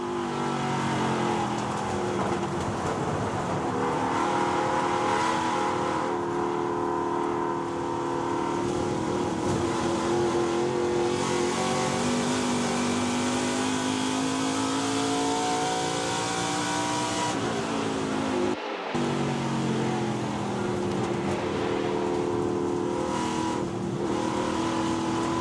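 An ARCA stock car laps the Illinois State Fairgrounds one-mile dirt track in Springfield, its engine droning steadily with gentle throttle rises and falls, loud and sustained for the whole lap, with one brief dropout and no talk.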